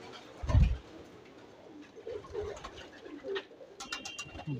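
Pigeons, including golden and Sylheti birds, coo in a loft, one deep close coo followed by softer scattered cooing and rustles, faint and intimate.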